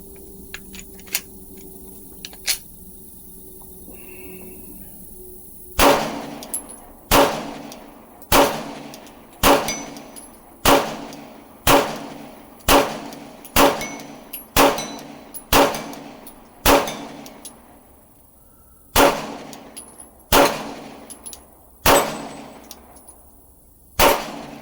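A Glock 19X pistol fires at a shooting range: after a few quiet seconds, about sixteen loud, sharp, close shots ring out in a steady rhythm, each trailing a brief echo, with one short pause midway.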